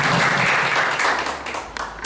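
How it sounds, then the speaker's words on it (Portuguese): Applause from an audience right after a poem is recited at a poetry workshop, a dense wash of clapping that holds steady and then thins toward the end, with no talk over it. "Muito bem, merece palmas."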